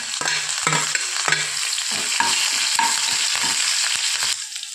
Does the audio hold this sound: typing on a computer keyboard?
no